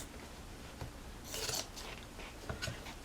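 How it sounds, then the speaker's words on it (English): Scissors snip through frayed fabric, a short crisp cut near the middle of a quiet stretch, followed by a fainter snip and light rustling of the material. "So I'm just going to take my scissors"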